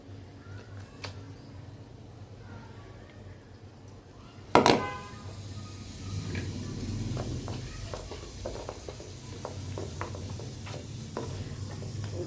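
Tempering spices hit hot oil in a pan for a Telugu ridge gourd peel chutney: a sudden loud crackle, then a steady, quieter sizzle with scattered pops that continues for several seconds.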